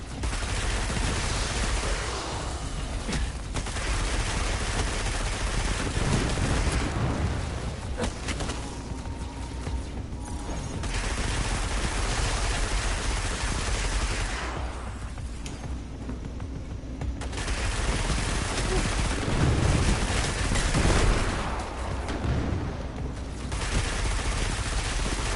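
Sustained heavy gunfire in the Destiny 2 video game, with dense rapid bursts and booms running almost continuously, loud and close, with brief lulls between volleys.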